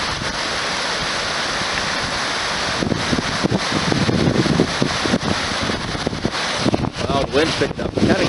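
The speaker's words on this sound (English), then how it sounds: "Well, the wind's picked up." Strong wind roars constantly across the microphone on a mountain hike in the Tetons, loud and gusty throughout, with brief voices and movement sounds under the rush.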